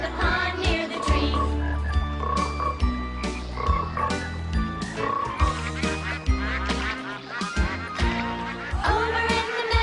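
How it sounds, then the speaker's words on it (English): Croaking frogs in a children's sung nursery rhyme by a pond, repeated croaks woven through a busy musical backing with bells and instruments, fairly loud throughout. "Croak said the mother, croak said the three"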